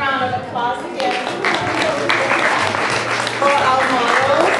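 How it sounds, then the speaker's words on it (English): Applause from an audience at a Montessori school fundraiser rises for the children modeling on stage, with steady clapping mixed with chatter and voices throughout. "how about a big round of applause again"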